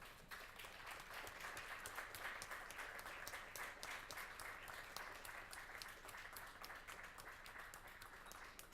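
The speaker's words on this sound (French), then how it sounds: "Maintenant, on vous applaudit encore" Sustained applause from an audience after a talk at a design research event, many hands clapping densely and evenly throughout, moderately distant and at a steady level.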